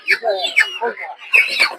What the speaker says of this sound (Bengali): এদিকে দেখতে পাচ্ছেন দেশি মুরগির বাচ্চা